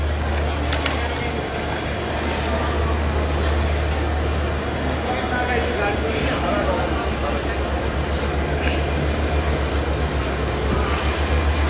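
Kamalapur railway station platform in Dhaka hums with a constant low train rumble and station din. Indistinct voices murmur in the background throughout.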